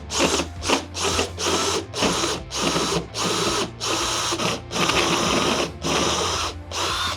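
A power tool cutting through a stainless steel panel during a kitchen touchscreen mounting installation, grinding in loud repeated bursts separated by brief pauses, with a low steady hum underneath.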